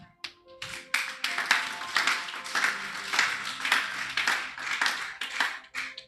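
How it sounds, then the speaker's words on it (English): A church congregation claps along during a sermon, a steady run of sharp hand claps filling the room with a loud, rhythmic, crowd-wide patter. "Clap your hand."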